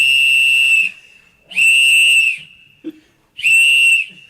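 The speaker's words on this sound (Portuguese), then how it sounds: "pegaram o apito do João Filho, foi?" A whistle is blown close and very loud in three long, shrill blasts, each about a second, separated by short pauses.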